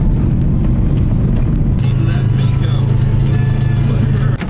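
A car engine idles to warm up on a cold Minnesota day, a loud, steady low rumble with a hum that settles in partway through and continues throughout.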